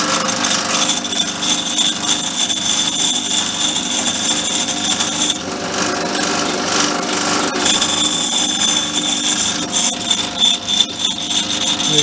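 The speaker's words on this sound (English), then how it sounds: "Harrison can be, and usually is, a noisy little lathe" A Harrison metal lathe runs steadily and loudly, its broad mechanical whir carrying dense rubbing and grinding texture throughout, with no one speaking.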